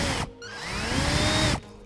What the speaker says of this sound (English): we're going to size up to an 8mm. Make sure you don't drill too far.